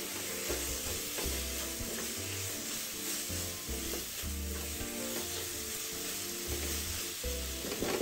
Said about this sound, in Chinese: 接着再将预先备好的咖喱酱全部加入，快速翻炒30到40秒，炒到颜色变得比较深